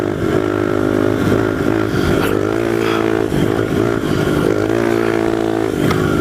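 A pit bike engine revs loud and close, buzzing continuously as it climbs and dips in pitch while the rider shifts between fourth and fifth gear.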